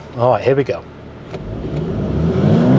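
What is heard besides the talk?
VW T-Roc R launch control acceleration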